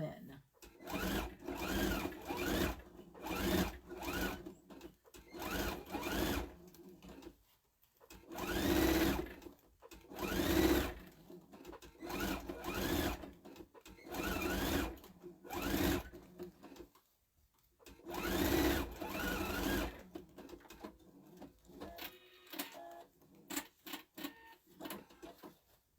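A sewing machine running a straight stitch in repeated bursts of rapid mechanical whirring and ticking, pausing between runs, close and moderately loud, with a person talking quietly in the gaps.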